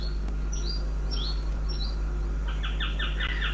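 Birds sing outdoors at a campsite, with short rising chirps and then a rapid run of repeated tweets, fairly clear over a constant low hum.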